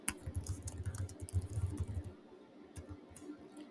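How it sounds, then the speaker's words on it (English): Quiet, rapid clicking of keys on a computer keyboard as someone types a short entry, a soft patter of keystrokes for about two seconds followed by a few scattered taps. "I type it in"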